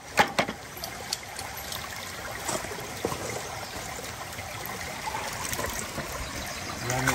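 Water flows steadily through an A52 sluice in a continuous trickling rush, with a few splashes and faint voices in the background.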